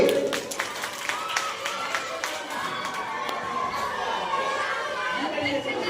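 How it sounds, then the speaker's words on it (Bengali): Loud clapping from a crowd of students at a school program on the Constitution, sharp rapid claps fading into chatter and children's voices nearby. "জোরে হাততালি"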